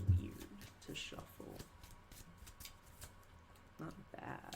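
A deck of playing cards handled in an overhand shuffle, giving soft, quick riffling and slapping bursts in short clusters, faint and close, with someone talking over it.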